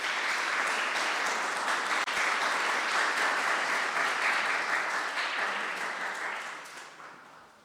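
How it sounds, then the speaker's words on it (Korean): A church congregation at a Sunday worship service gives a round of welcoming applause, a dense, even wash of clapping that holds steady before gradually fading out toward the end. "우리 환영의 박수 하겠습니다."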